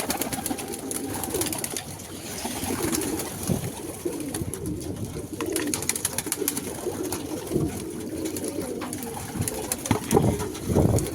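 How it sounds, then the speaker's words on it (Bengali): Pigeons coo softly and repeatedly against a busy rooftop background, several birds overlapping in low throaty burbles that continue throughout. "নর পায়রার বেশিরভাগ পায়রাই জল খেয়ে ওপরে উঠে গেছে।"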